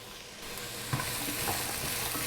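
Onion, garlic, carrots and potato fry in a pan, a quiet steady sizzle broken by soft scraping knocks as the mixture is stirred.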